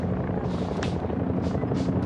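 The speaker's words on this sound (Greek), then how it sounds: "Τέσσερα ελικόπτερα επιθετικής αναγνώρισης" Four Kiowa Warrior attack reconnaissance helicopters fly over a military parade in sunny Athens, giving a continuous loud rotor drone with rhythmic chopping pulses and a television commentator speaking over it.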